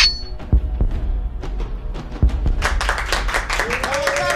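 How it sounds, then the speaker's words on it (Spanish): Family members applaud during a blind audition on a televised singing competition, scattered clapping that grows into denser applause, with voices and some background sound mixed in. "Ahí vemos los familiares aplaudiendo."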